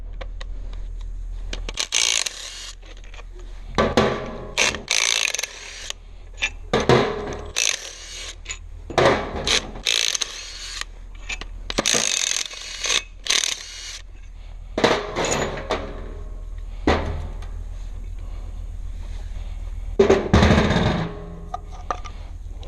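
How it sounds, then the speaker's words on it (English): Bolts come out of the brakes on a Zetor 5211-7745 tractor in irregular bursts of ratcheting, metallic clanks and tool knocks, with short quiet gaps between them, close by. "So let's take off these bolts and pull it apart,"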